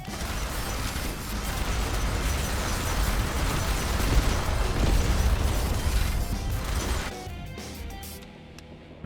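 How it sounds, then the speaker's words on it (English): Loud, dense rumbling blasts and crashing bursts from a bombing strike in the zombie survival game Yet Another Zombie Survivors, a continuous barrage that holds for about seven seconds before thinning out. "let's do bombing strike"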